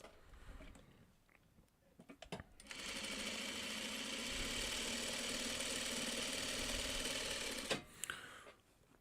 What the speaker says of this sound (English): if I see that it's kind of close, like this, I'll just sew it together.